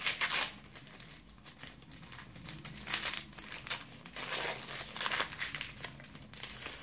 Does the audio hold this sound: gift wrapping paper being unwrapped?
yes